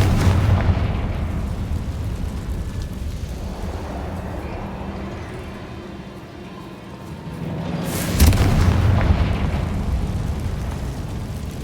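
A Confringo blasting spell going off in Hogwarts Legacy, a heavy booming explosion with a sustained rumbling roar, followed by a second loud burst about two-thirds through.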